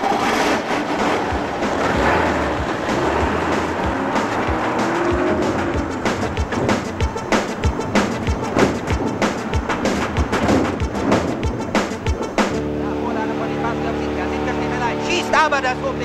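A truck drives off during a driving test, its engine roaring loudly and continuously with the gear changes and rising revs up close, as voices talk over it.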